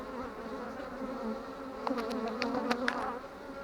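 Close, continuous buzzing of many honeybees in the brood frames of an open hive, a low droning hum with a few sharper tapping and rustling sounds near the end.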